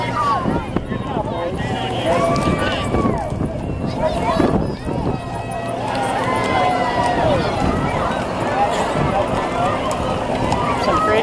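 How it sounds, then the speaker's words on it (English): Horses from a rodeo team clip-clop along a homecoming parade route with a steady rhythm of hooves under crowd noise and nearby chatter, moderately close throughout. "Some pretty horses."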